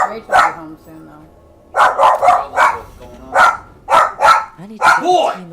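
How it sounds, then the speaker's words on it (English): Dog barking in the video game Dragon Age: The Veilguard, several sharp barks in quick bursts, fairly close and loud, with spoken voices from the game in between. "Who's barking?"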